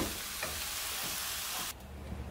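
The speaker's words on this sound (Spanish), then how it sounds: "Vamos a dorar ahorita las tortillas para las enchiladas." Tortillas frying in oil in a pan for chicken enchiladas, a steady close broadband sizzle that cuts off sharply near the end, leaving a quieter hiss with faint clinks.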